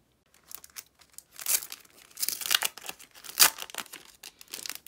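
Poster packaging, likely plastic wrap, is torn open and crinkled close by in a string of irregular rustling, crinkling and ripping bursts, with no talk.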